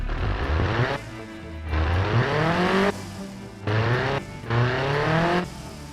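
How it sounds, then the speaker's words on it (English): A 1975 car engine built in Automation and rated at 82.4 horsepower revs in the BeamNG driving simulator, climbing in pitch through four separate throttle blips, each ending in a sharp drop back to a quieter idle. "let's have a quick listen to the engine"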